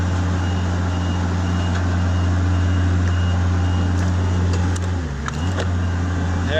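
An HR21D / SP64D machine reverses with a steady engine or motor drone and a faint high beeping. A brief dip in the hum and a few clicks come near the end, with no talk.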